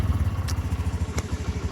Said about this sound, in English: I'll see if you can hear that motor a little bit